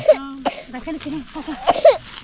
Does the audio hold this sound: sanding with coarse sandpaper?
no